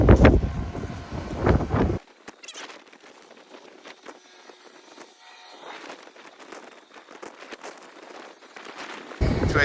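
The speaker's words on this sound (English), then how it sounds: "Friday wind was everything it could be." Strong outdoor wind during an arctic front crossing on a March morning, with loud buffeting gusts hitting the microphone at the start and end and a steadier, quieter rushing in between.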